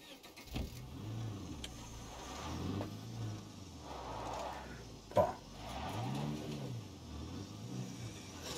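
Car engine in State of Decay 2, revving up and easing off in repeated swells as the vehicle drives, with a sharp knock partway through, fairly faint and with no talk.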